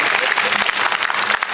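Audience clapping loudly and steadily at a Gujarati community gathering, a dense wash of applause with scattered individual claps, with no voice heard over it.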